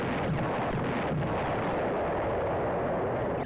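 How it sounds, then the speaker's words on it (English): A missile strikes a city in an Amiga arcade game, setting off a continuous roaring explosion rumble that fills the whole stretch loudly and evenly before cutting off. "if it hits a city, then the explosion is quite cool"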